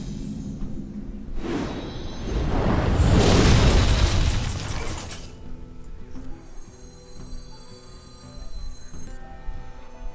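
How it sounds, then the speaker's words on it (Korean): The Lava Burst spell erupts in the Hearthstone card game as a loud, roaring explosion that swells for about three seconds and then fades into soft game chimes and background music. "아이 뭘 또 용암 폭발이야"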